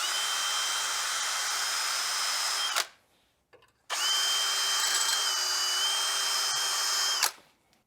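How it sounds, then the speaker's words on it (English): Power drill spinning a wire brush attachment through brake caliper bolt holes on a Renault Scenic 3, a steady whine in two bursts of about three seconds each separated by a short pause, close and alone. "I also like to run through the holes with this drill wire brush attachment."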